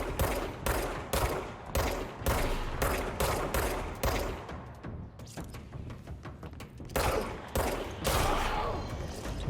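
Gunfire in the video game Control, rapid loud bursts of shots in quick succession with brief pauses between volleys, close and punchy, continuing through the whole stretch.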